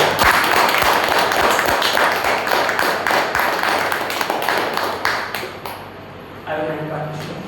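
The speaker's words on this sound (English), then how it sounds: "Let's applaud for it" Applause from an audience at a Toastmasters evaluation session, a dense sustained crowd clapping that stays loud before thinning out toward the end.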